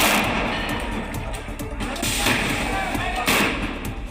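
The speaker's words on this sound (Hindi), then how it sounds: "पुलिस पर फायरिंग हुई तो जवाब में यूपी पुलिस की बंदूकें भी गरजी" UP police fire their guns back at rioters during the Sambhal Jama Masjid violence, a rapid, dense run of thumping shots and bangs over continuous rough outdoor noise, with voices mixed in underneath.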